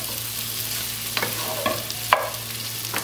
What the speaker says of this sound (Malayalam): നമുക്കിനി സവാള ചെറുതായിട്ടൊന്ന് വഴറ്റിയെടുക്കാം.